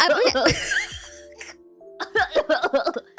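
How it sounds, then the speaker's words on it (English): A few harsh coughs and throat-clearing bursts mixed with short bits of voice, close to the microphone, followed by a pause and more choppy vocal sounds. "Cough."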